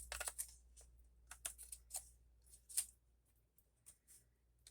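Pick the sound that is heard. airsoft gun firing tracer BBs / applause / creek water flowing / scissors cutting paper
scissors cutting paper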